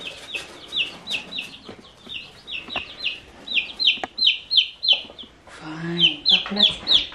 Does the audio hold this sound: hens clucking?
yes